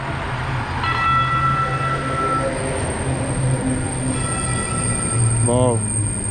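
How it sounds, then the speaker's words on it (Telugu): A metro train arrives at a station in the United States, its wheels squealing and rumbling loudly and close, with rising metallic screeches as it slows. "సో ఇక్కడ చూస్తే ట్రైన్ కూడా వస్తుంది."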